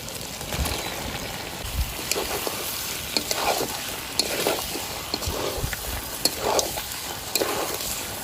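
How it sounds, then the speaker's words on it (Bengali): Potatoes are stirred into mutton that has been fried down in oil for a Bengali khashir mangsho curry, giving a steady sizzle with repeated scraping strokes of a spoon against the pan throughout. "মাংস কষানো হয়ে গেছে এবার আলুগুলো দিয়ে দেবো"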